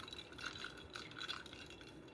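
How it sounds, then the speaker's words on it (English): A spoon stirring chai tea concentrate and milk in a glass, faint soft clinks and swishes repeating at an even pace, quiet and close with no talking. "Give it a stir."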